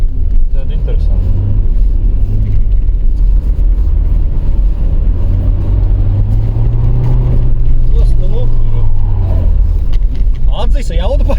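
Audi B5 with a 1.9 TDI diesel engine driving, a steady low engine and road rumble running throughout with a slow swell in pitch midway, while people talk over it inside the car.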